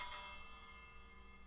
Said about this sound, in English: You know, I might as well take this bell,